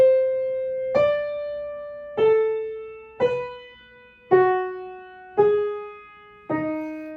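Six clear pitched notes, each a struck tone that rings out and decays, step downward by fourths through a melodic line, played alone at a moderate, even pace.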